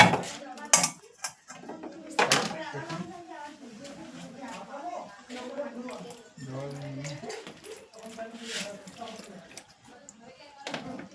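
A knife and a saucepan being washed: clattering metal, clinks and water-splash knocks sound close while a person talks over much of it.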